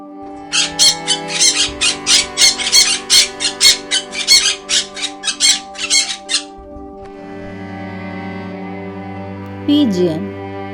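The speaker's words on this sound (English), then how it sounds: "parrot," A parrot gives a rapid run of harsh, bright squawks for about six seconds, then falls quiet over a steady hum before one short squawk near the end.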